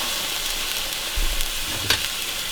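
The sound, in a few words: ground turkey frying in olive oil in a pan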